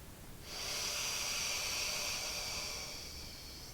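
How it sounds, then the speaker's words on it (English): A single deep breath during a seated chair exercise comes as a long, airy, breathy hiss that starts abruptly and holds steady for about two and a half seconds before slowly fading, quiet and close. "I breathe in."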